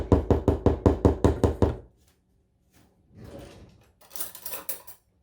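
A plastic spatula clears banana bread batter into a pan: eight sharp, evenly spaced taps ring out, followed after a pause by softer scraping and clattering strokes.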